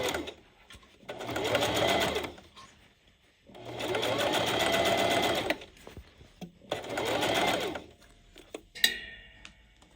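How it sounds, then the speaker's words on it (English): A sewing machine runs a back stitch in three sustained whirring bursts with quiet pauses between them, heard up close and ending with a few light clicks. "I am going to do a bit of a back stitch there"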